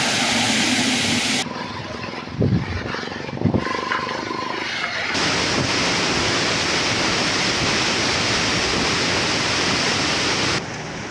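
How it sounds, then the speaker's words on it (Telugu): Floodwater roars out through twenty raised gates of the Tungabhadra dam during heavy inflow: a loud, steady, broadband rush with no break, a few brief knocks early on, under no talk. "ఈ క్రమంలో డ్యాం 20 గేట్లు ఎత్తి అధికారులు నీటిని దిగువకు విడుదల చేశారు."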